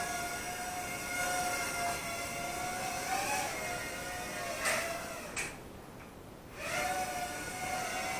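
A YiZhan iDrone X4 micro drone flies nearby, its tiny propellers giving a steady high-pitched whine that rises and falls in pitch as it maneuvers, briefly dropping away before spinning back up.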